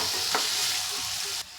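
Tomato masala being fried and stirred in a pan for Udupi-style idli sambar, a steady close sizzle with a brief stir scrape, running continuously before dropping slightly quieter near the end.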